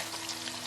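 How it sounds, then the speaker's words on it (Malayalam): Beef sizzles in hot oil with slit green chilies and curry leaves for a Kerala-style dry fry, a brief, steady hiss of frying heard up close with no talking. "പച്ചമുളക് നടുവേ കീറിയത്, അല്പം കറിവേപ്പില, ഇത്രയും ചേർത്ത് ഒന്ന് ഇളക്കുക."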